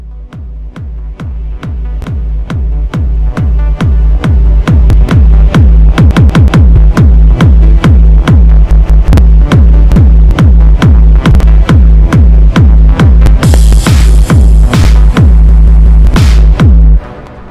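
A chillout trance track produced in FL Studio plays loud and steady with a driving four-on-the-floor kick, layered synths and a swelling build; the beat runs continuously before cutting off at the end, with no voices.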